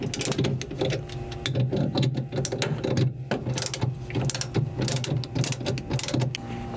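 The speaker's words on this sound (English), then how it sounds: "alternatively tighten each clamp bolt until the clamp segments meet" Clamp bolts being tightened on a swivel bolt-on pipe coupling, a dense, continuous run of close ratcheting clicks and metallic grinding, loud and busy throughout with brief pauses, no talking.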